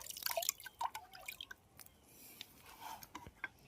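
Water drips and splashes in small, irregular drops while a part of a Crompton motor pump is being washed during a repair, quiet and close, with a few sharper plinks early on and softer trickles after.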